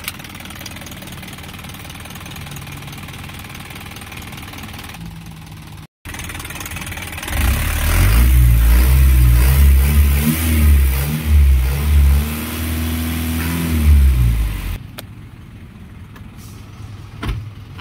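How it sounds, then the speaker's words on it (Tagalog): Isuzu 4HG1 truck engine, a 4,800-capacity manual 2022 surplus Japan wide-body truck, idles quietly, then revs up loud and rumbling in several pulsing surges for about seven seconds before dropping back to a steady idle. "Ganda ng engine."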